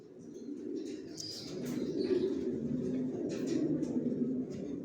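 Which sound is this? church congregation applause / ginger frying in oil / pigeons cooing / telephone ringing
pigeons cooing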